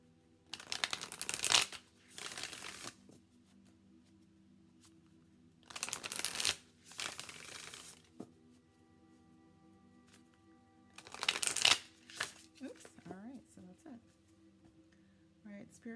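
Modern Love Tarot cards by Ethany are shuffled in three separate riffling bursts, each lasting a second or two, with quiet gaps between them and soft sounds of the cards being handled.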